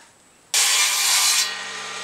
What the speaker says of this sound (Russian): Ты у нас, как я вижу, перекладки пилишь?